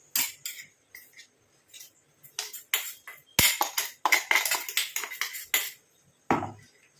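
Ground mustard seed and black cumin powder is sifted onto a plate, heard as uneven runs of close, sharp metallic taps and rattles from the sieve, coming in short clusters separated by pauses, with no talking.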